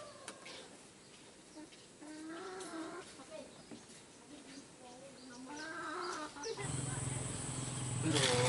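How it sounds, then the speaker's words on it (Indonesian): Chickens clucking in short, scattered bursts at moderate distance amid faint background noise, joined near the end by a louder, steadier hum. "Banyak ayam."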